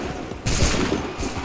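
A musket volley from a line of soldiers in Assassin's Creed 3 Remastered: a sudden, loud, crackling burst of many shots fired together, over a dense background of battle noise.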